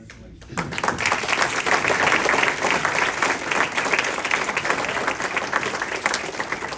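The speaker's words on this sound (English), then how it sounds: "Happy crowd." A banquet crowd at a hot stove banquet and hall of fame ceremony bursts into loud, sustained applause after a quiet start, the dense clapping holding steady with a few voices mixed in.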